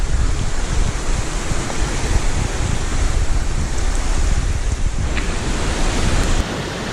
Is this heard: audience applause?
no